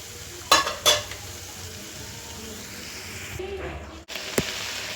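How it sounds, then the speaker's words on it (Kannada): Aloo bonda deep-frying in hot oil, a steady close sizzle throughout, broken by a couple of sharp metal clinks of a utensil against the pan and a brief stirring scrape near the end, with no talking. "ಚೆನ್ನಾಗಿ ಫ್ರೈ ಆಗಿದೆ. ನಾವು ಇದನ್ನು ಎಣ್ಣೆಯಿಂದ ಆಚೆ ತೆಗೆಯೋಣ."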